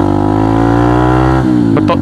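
A motorcycle fitted with an aftermarket racing exhaust revs loudly and close by in a steady, throaty drone, with a brief higher blip near the end.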